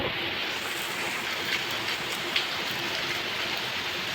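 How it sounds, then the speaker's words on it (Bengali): A steady, dense hiss of heavy rain pouring down, constant and loud, with no voices over it. "প্রচণ্ড বৃষ্টি শুরু হয়ে গেছে"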